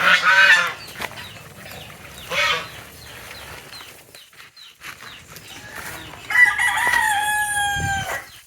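Chickens cluck and crow alongside honking geese, loud bursts coming and going in an outdoor poultry yard, no one speaking.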